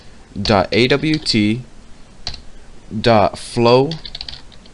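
Java code typed on a computer keyboard, with rapid soft key clicks running under a man's nearby speech, which mostly covers the typing.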